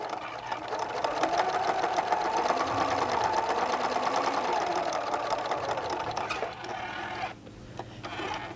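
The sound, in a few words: sewing machine top stitching a pouch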